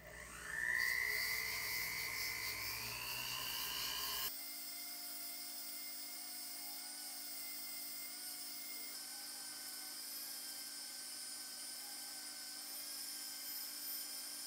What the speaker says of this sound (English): I am just going to use this little bristle brush that I have on the back of my rotary tool